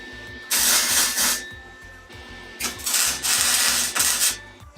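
A turbo exhaust pipe being tack welded, heard as several bursts of harsh crackling hiss with a steady buzz underneath and short pauses between the tacks.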